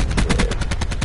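Rapid gunfire in a multiplayer shooter video game match, a dense burst of repeated loud shots in quick succession throughout, close and sharp with no talking.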